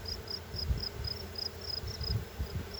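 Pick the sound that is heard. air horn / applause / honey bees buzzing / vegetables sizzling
honey bees buzzing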